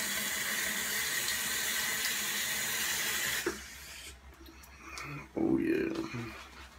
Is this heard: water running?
yes